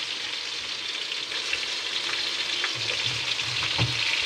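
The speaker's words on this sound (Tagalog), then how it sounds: "Maririnig nyo siguro may kumukulong mantika sa kabila kasi mayroon nilulutong" Chicken adobo fries in hot oil as a steady, hissing crackle with soft pops, heard nearby and alone without talking.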